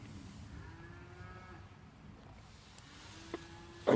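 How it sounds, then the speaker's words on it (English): Cows lowing near a night camp, a long, low drawn-out moo and then a second call, distant and faint against quiet outdoor ambience, with a brief clatter at the very end. "And good night to the cows as well."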